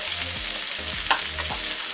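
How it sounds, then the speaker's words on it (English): Chopped onion sizzling in a hot frying pan, a steady bright crackle with stirring scrapes and soft knocks of the utensil against the pan. "Oh, I love a good sizzle."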